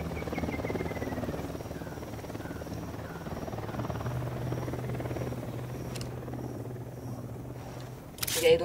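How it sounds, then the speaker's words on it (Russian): A military helicopter approaches in the Ghost Recon Wildlands video game, its rotor drone a steady, loud, low throb that holds throughout before a sharp louder burst at the very end. "Вертушка единственно на подлете."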